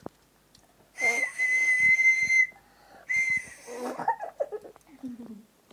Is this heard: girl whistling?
yes